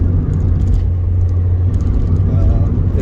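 A nine-year-old Honda Civic drives along a road on old tyres. Heard from inside, a steady, close, low engine and tyre rumble continues throughout without pause.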